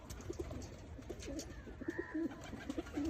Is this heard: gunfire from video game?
no